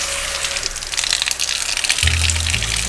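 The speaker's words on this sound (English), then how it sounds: "My favorite part of this place is the waterfall sound that they've built into the sink." Water gushes steadily from a waterfall-style sink tap, a loud continuous splashing rush that deepens and swells toward the end.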